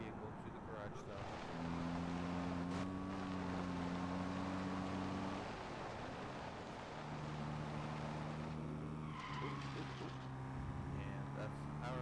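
Car engine droning steadily in the CaRP driving game, a low tonal hum holding through most of the stretch with a pitch step midway, with a voice talking over it.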